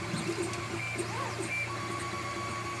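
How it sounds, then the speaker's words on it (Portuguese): A 3D printer prints a part for a steering mechanism, its stepper motors whirring and whining in shifting tones with a steady hum underneath, continuous and close. "Tá gastando 20 minutos mais ou menos para imprimir essa peça."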